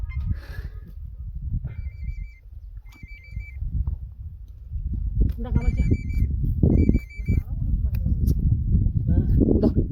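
A mobile phone rings near a river during a fishing outing, with short bursts of an electronic ringtone repeating at intervals while people talk loudly over it.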